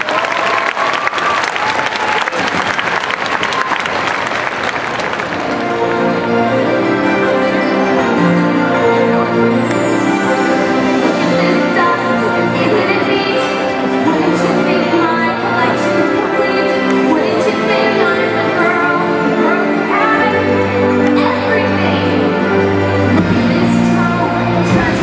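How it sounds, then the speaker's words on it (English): An audience at a Disney on Ice preshow applauds ice skaters with loud, dense, sustained clapping that runs throughout, while music with bells and tones plays over it. "Please give the skaters a huge round of applause."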